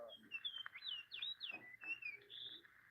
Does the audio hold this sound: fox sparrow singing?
yes